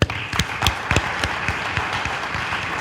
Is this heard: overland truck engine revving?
no